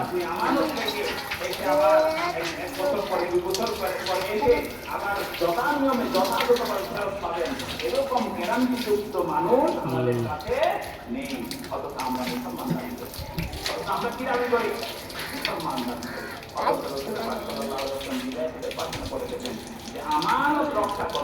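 A tap runs steadily indoors, its water splashing and gushing into a basin throughout, while people talk nearby over the flow.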